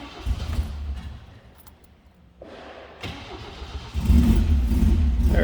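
A 1971 MG MGB convertible engine cranks and catches on a cold start, the idle rising into a loud, rough revving roar close by, with no talk over it.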